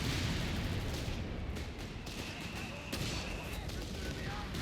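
Chaffee tank and supporting infantry section opening fire in a Company of Heroes 3 4v4 battle on Oasis Depot, with loud, dense gunfire and booming explosions in a continuous, unbroken barrage.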